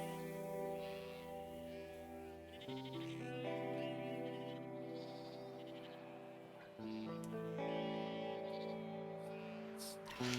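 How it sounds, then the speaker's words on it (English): Sheep bleating in the video game Broken Roads, several drawn-out bleats set against a steady musical score, with a louder burst near the end. "take these sheep back to Alderside"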